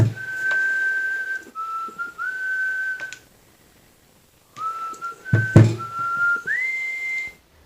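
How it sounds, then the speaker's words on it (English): Someone whistles a slow, clear melody in long sustained notes with gliding pitch changes, pausing briefly midway, with faint thumps in the background. "I did record me whistling"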